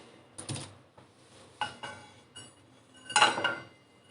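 A metal spoon scraping and clinking against a pan while toasted grated coconut is moved into a small bowl, with three or four separate sharp scrapes and taps, close and fairly quiet, with no talking.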